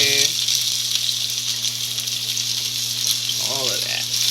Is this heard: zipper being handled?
no